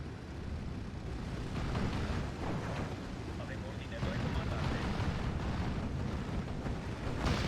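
Aircraft strafe ground targets in the Steel Division 2 war game, a dense, continuous roar of cannon fire and explosions under an ongoing battle wash, with someone talking over it.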